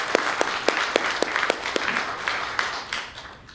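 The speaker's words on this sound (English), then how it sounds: "give yourselves a round of applause for being here this morning" Applause from a morning audience at a community gathering for a veterans' home charity, a dense wash of many hands with some sharper individual claps standing out, steady and fairly close before tapering toward the end.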